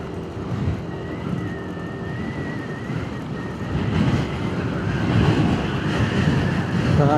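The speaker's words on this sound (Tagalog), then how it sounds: "Grabe ang lakas ng hangin." Strong wind roars steadily across the microphone beside a mountainside road on the Mindoro loop near Abra de Ilog, a broad low buffeting that grows heavier toward the end, with no talking.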